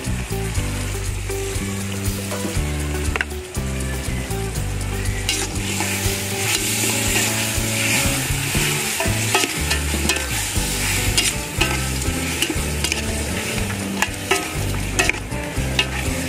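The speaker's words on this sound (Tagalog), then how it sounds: "Kag aton man ini nga gisahon para magnami." Beef sizzles steadily in a hot pan while being sautéed and stirred, with continuous frying crackle and frequent scraping and clinking of the utensil throughout.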